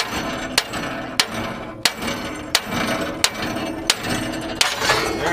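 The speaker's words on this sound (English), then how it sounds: "I'll just hit it with a hammer." A hammer strikes a car part about eight times at a steady rhythm, sharp metallic bangs close by over a low background hum.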